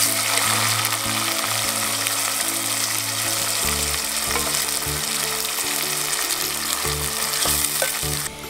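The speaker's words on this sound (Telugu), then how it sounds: "ఇప్పుడు నూనె గరం అయినాక సన్నగా కోసుకున్న ఉల్లిపాయ ముక్కలు వేసుకోవాలి." Thinly sliced onions drop into hot oil and fry with a steady, loud sizzle, a dense crackling hiss that runs on throughout with occasional stirring and no voices.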